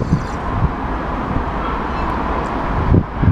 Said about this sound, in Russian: Что-то ветер усиливается